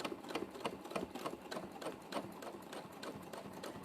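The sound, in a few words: sewing machine free motion quilting with metallic thread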